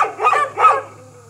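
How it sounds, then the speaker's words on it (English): Two sharp, loud barks come in quick succession from a dog close by at a Florida deer-hunting spot, then fade into a low hum. "They can hear barking, it's not a big deal."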